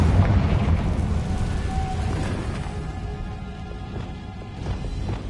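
A Confringo blasting spell goes off in Hogwarts Legacy as a loud, rumbling explosion that starts heavy and slowly decays into a fading roar.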